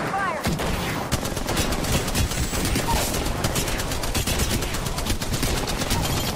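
Continuous rapid gunfire in an Apex Legends match, a dense, unbroken stream of shots, loud and close throughout, with a dull background roar beneath.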